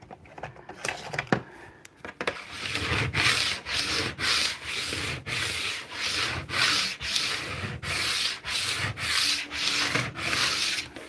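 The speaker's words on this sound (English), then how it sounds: "I need to scrape my board." A board is scraped in steady repeated rubbing strokes, about two per second, close and fairly loud, with no talk.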